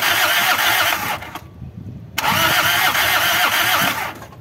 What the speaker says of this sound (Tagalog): paandarin ko na itong makina